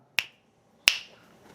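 Two sharp, crisp finger snaps, close and loud, spaced well apart, the second ringing slightly longer, with otherwise quiet background and no talking.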